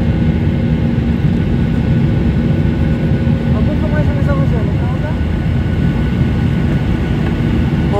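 Passenger airplane cabin during the climb after takeoff, a loud, steady, broadband engine roar and rush of air filling the whole stretch without letup, with faint high chirps surfacing briefly midway.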